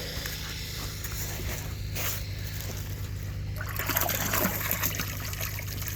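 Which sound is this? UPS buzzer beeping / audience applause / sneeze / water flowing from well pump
water flowing from well pump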